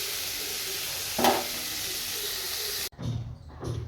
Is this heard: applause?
no